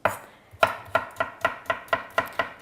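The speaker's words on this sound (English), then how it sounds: "I enjoy chopping the cucumber actually more than the tomato and the capsicum." A knife chops cucumber on a cutting board for a salad, nine crisp, evenly spaced knocks, close and clear with no talking.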